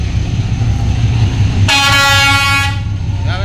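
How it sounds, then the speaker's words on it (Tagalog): A train arriving at a station rumbles loudly and steadily close by, and a bright horn blast cuts in at about the halfway point and lasts roughly a second, with no talk. "Parating na yung train."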